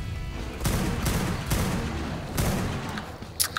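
In-game gunfire aimed at a T-rex in ARK: Survival Evolved, with the Primal Fear mod: three or four heavy broadband shots spaced about a second apart, loud and close, followed by a few sharper small cracks near the end.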